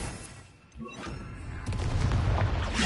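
Confringo blasting-spell explosion in the video game Hogwarts Legacy: a dull booming burst that swells into a loud, sustained roar of blast noise and rumbling debris, with no talk over it.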